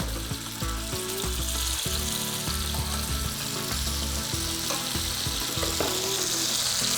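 Meat frying in a pan alongside halved garlic and thyme, a loud continuous crackling sizzle with occasional clinks and knocks of a utensil, close and without talk.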